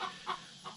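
Turkeys on a farm give three short clucks in an even rhythm, each brief and fairly quiet, with nothing else heard around them.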